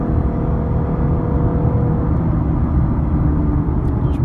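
A 2017 Lexus LC 500h Sport+ hybrid V6 coupe accelerating hard at high revs, its engine a steady loud rumbling whir heard from inside the car throughout, with no voices.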